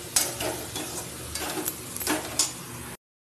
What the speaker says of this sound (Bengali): এবার আমি পটল আলু যে ভেজে রেখেছিলাম এটা দিয়ে দেবো। দিয়ে আবারও আমি ভালো করে একটু কষিয়ে নেবো।